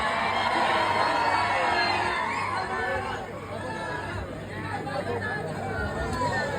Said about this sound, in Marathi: जोरदार अशा टाळ्या वैभव दादांसाठी झाल्या पाहिजे